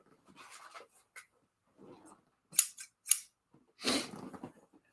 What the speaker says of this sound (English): I was putting them on top of a pair of scissors.